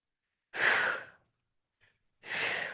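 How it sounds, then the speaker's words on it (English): Two deliberate exhaled breaths during a Pilates mat exercise, each a soft, airy whoosh about half a second long, close to the mic with a faint catch of breath between them and silence around. "Exhale and exhale."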